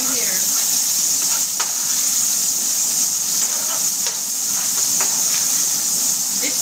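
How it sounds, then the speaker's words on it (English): Bacon pops and sizzles in a pan, a steady bright hiss broken by scattered sharp pops and crackles, heard close by. "this bacon is popping and sizzling over here."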